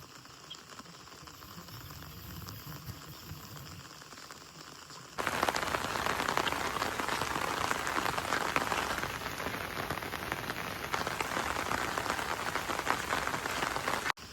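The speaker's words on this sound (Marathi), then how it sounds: "हे जे पाणी इथून जे जात आहे ना वाहत वाहत खाली तिथे ओढा आहे" Water running down toward a stream beside green rice fields, a steady broad rushing hiss that grows suddenly louder partway through and stays continuous, with no voices.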